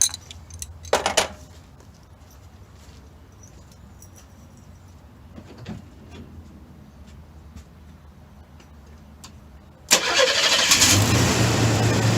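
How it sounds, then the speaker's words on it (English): A car engine, run on fresher gasoline after a battery connection was redone, cranks over at close range, a loud steady burst of churning starter noise that arrives after a long quiet stretch with faint clinks and rustles. "Let's see if she cranks over any better."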